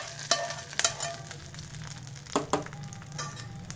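Hot oil tempering sizzles and crackles as it is stirred into moong dosa chutney, with a few sharp scraping clinks of a spoon against the pan.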